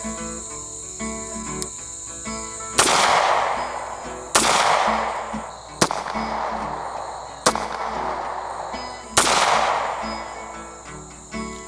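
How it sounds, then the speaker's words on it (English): Five sharp pistol shots from a Stoeger Cougar 8040F ring out at an even, unhurried pace outdoors, each crack trailing a brief echo over a steady chirping of crickets. "So there's 5 quick shots right there"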